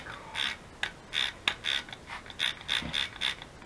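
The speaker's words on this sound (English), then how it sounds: "I'm going to spray some water in here." A spray bottle is pumped about a dozen times in quick, irregular bursts, each trigger pull giving a short hiss of mist with a faint click.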